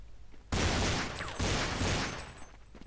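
Gunfire in Counter-Strike, a sudden loud burst of rapid shots starting abruptly, then a second volley close behind, before fading into quiet game ambience.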